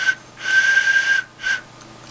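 A drawn-out whistled tone, steady and fairly loud, followed after a brief gap by a shorter whistle, with no voices.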